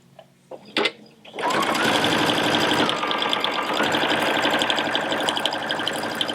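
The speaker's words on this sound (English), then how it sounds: "the top layer and the bottom layer are just flowing right through the machine under the needle" A Crescendo sewing machine top stitches through top and bottom fabric layers, its needle motor running in a loud, steady, close whirring burst after a few brief clicks at the start.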